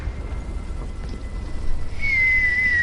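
A falling bomb's descending whistle in the tank game War Thunder rises clearly after a low rumbling background, holding as a loud sustained tone to the end.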